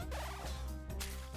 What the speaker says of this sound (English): There appears to be a giant chicken spitting fireballs at